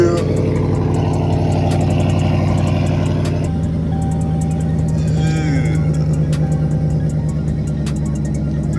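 A supercharged Dodge Challenger R/T engine drones loud and steady from inside the cabin, its rumble shifting pitch partway through as revs change, with someone talking over it.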